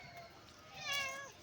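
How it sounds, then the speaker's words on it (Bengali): A tiger-striped cat meows once, a rising and falling cry with clear harmonics at moderate distance over faint background noise. "বাঘের মতো দেখতে বিড়ালটাকে"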